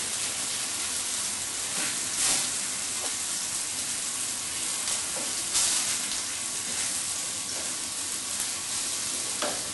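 A steak sears in a smoking hot pan with a loud, dense, continuous sizzle up close, swelling in a few brief bursts of spattering.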